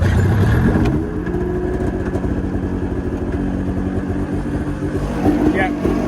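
Mountain Cat snowmobile engine running steadily at idle, a loud continuous low rumble with uneven putter throughout, close by and filling the whole stretch.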